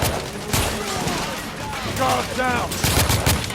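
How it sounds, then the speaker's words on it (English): Gunfire bursts crackle through a battle in The Order: 1886, sharp shots and a rattling fusillade layered under shouted voices and busy combat noise. "I'm taking suppressing fire!"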